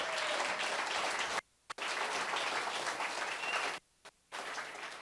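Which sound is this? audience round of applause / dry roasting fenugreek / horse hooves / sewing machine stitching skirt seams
audience round of applause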